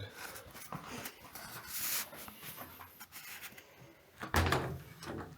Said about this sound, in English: So I'm gonna get my dog.